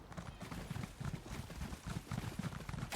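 Horse hooves clip-clopping in the fantasy game Elder Scrolls Online, a quick, regular trotting rhythm of soft thuds that runs throughout at low volume with no speech.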